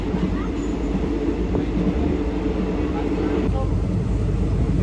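Sleeper train rolling along the tracks in Thailand, a steady loud low rumble of carriage and rails heard from inside, continuous throughout with a faint high whine and occasional clatter, some talk in the background.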